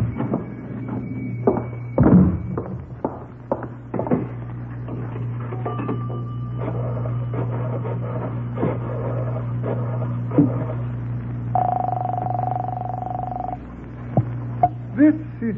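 A telephone in a candy store is dialed in a 1948 radio detective drama: a run of close, sharp mechanical clicks and clatters, then a steady tone for about two seconds, with no voices.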